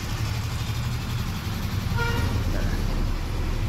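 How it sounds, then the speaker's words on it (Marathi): Garbage truck pulling up on a morning street, its horn giving a short toot over a steady low engine rumble, moderately close. "बघा सकाळचं वातावरण, कचऱ्याची गाडी आली"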